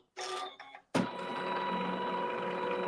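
A sewing machine tacks down stitching on a log cabin quilt block. A short whirring run stops briefly, then a longer steady burst of close, even mechanical stitching follows with no voices.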